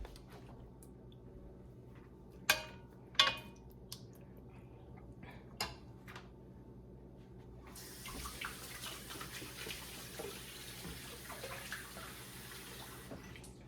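Soapy hands being washed under a running kitchen tap during lasagna preparation: a few sharp knocks and clicks first, then a steady faint rush of tap water that runs to the end, with no voices.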